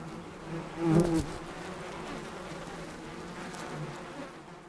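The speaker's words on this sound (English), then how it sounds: "Honeybees are busily coming in and out" Honeybees fly in and out of a hollow in a tree trunk. The close, continuous insect buzzing rises briefly as one passes near, and no one speaks.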